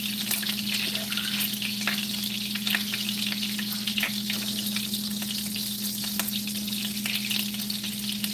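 Food sizzles and fries steadily in a hot pan while it is stirred, with scraping and stirring sounds over a constant loud crackle; cube steaks may be cooking.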